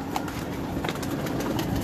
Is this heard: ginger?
no